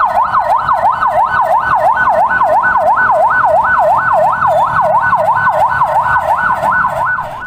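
Ambulance carrying COVID-19 patients to Cibabat regional hospital in Cimahi, its siren wailing loud and close in a steady rapid up-and-down sweep that holds for the whole stretch before easing slightly at the end.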